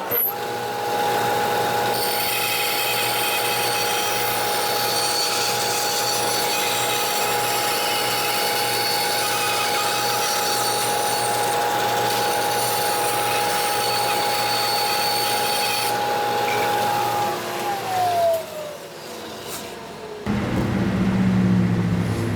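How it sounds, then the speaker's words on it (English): Workshop dust collection system running during woodworking, a loud steady droning whine with a constant tone that holds for most of the stretch, then spins down near the end before another tool noise cuts in. "So I'm gonna cut the dust collection on for this one."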